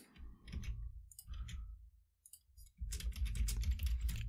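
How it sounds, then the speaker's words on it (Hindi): Code is typed on a computer keyboard in short bursts of close clicking keystrokes, with a brief pause and then a denser run of taps. "सिंपली मैं यहाँ पे इसी सेम कोड को टाइप करता हूँ"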